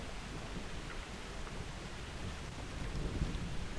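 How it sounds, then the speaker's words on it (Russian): Thunder from Zeus's lightning weapon in the game Apotheon rolls as a steady, dense, loud rumble mixed with rain-like hiss, unbroken from start to end with no voices. "Так, молния Зевса, выкованная в древние времена могущественным клинкам, это сверкающее оружие несет силу, гроз и неприкасаемый авторитет."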